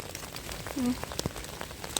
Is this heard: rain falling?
yes